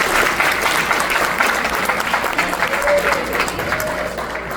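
A crowd at a temple Ramleela performance claps loudly and steadily, a sustained roar of hands with faint voices underneath, tapering a little at the close.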